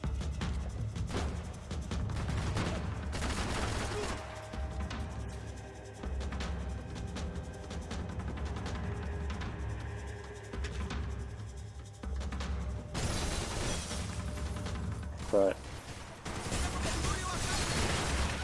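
Gunfire and shattering cover in a Max Payne 3 firefight, scattered shots and impacts over a busy game soundscape, with a louder crashing stretch near the end.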